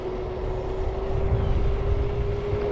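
Electric car driving with a futuristic synthetic whine, a steady tonal hum held over low road rumble, close and continuous.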